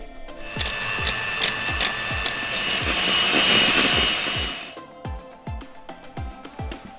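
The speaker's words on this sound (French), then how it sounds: "la crème liquide que nous allons monter au batteur" Electric hand mixer whipping liquid cream in a bowl for a lemon basil tart, a steady buzzing motor whine with rhythmic knocks of the beaters against the bowl, then stopping and leaving a few scattered clunks.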